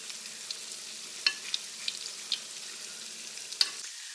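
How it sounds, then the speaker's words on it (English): Leftover potatoes frying in a pan with a steady, moderate sizzle and a few sharp pops and crackles, no voices. "You don't want to crowd when you're frying."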